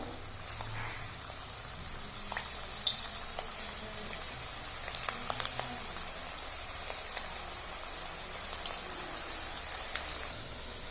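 A potato breakfast snack deep frying in hot oil over a medium flame, a steady, dense bubbling hiss like rain on a surface with occasional louder pops, close and continuous, no talking.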